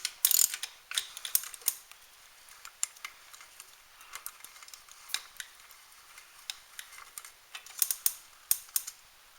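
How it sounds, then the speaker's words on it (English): A ratchet wrench loosens an 8mm bolt on a carburetor, giving close, crisp bursts of rapid clicking with short pauses and no talk. "That is an 8mm bolt, so you want to take that off."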